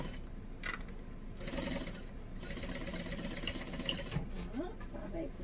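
A sewing machine stitches a seam on a tote bag, running in a steady, close mechanical whir for the whole stretch with small shifts in pace.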